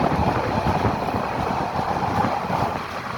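Continuous low rumble of a moving intercity train heard from the open door, with wind buffeting the microphone, loud and steady throughout with no talking.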